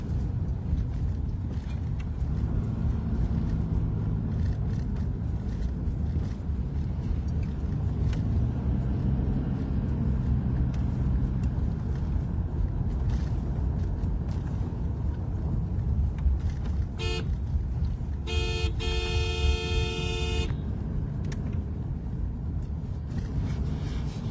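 Steady low road rumble and engine drone from inside a moving car, quiet and continuous, with a brief burst of tonal electronic beeping near the end.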